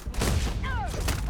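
Rapid gunfire from a gun in the video game Starfield, a burst of sharp, loud shots with booming tails layered over in-game sound effects, heard close and dense across the moment.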